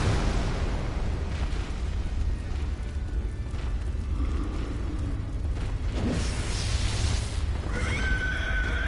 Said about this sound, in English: Oh, it's gonna explode.